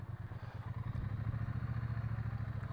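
A motorcycle ridden at very low speed during slow-speed control practice, its engine holding a steady, throbbing low rumble with a slightly uneven rhythm, close and continuous throughout with no talking.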